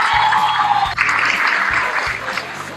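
Audience at a Mujerazo women's event applauding for the speaker's mother, a loud, dense wash of continuous clapping that holds steady for several seconds.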